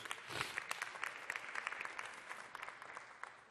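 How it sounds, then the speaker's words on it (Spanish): A church audience gives a soft, steady round of applause, many hands clapping together at a distance throughout, fairly faint in the room. "Den un aplauso a ellos"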